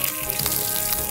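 Spice-seasoned meat sizzles on a grill at a campsite, with a close, steady, continuous crackle and no voices.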